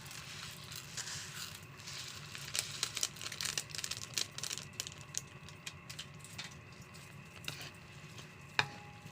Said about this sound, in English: Then mix it well.